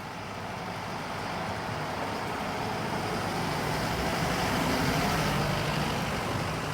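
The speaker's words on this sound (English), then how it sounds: "There goes a tour bus," A tour bus drives past on a road in Japan. Its engine and tyres make a broad, steady rumble that builds gradually and holds, with no voices.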